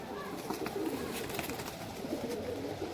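A Pakistani highflyer Teddy pigeon coos softly in a loft, low repeated murmuring calls over a noisy, rumbling background with no clear speech.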